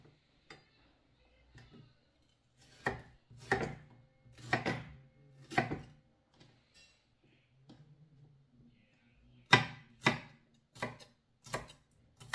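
A sharp knife chops garlic, onion, chayote and ginger on a board in quiet, irregular bursts of crisp close taps, some quick runs of strikes and isolated single cuts with pauses between.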